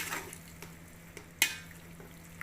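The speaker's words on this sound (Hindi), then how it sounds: "मजीद इन थोड़ी बहुत भुनी लावांगे चिकन नूं" Chicken pieces with spices fry for chicken karela, a faint steady sizzle with occasional light stirring taps and one sharper clink from a spoon on the pan.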